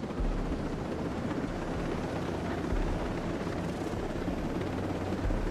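A helicopter in the video game Ghost Recon Breakpoint flies toward a landing pad, its dense, steady rotor and engine roar filling the whole stretch without a break.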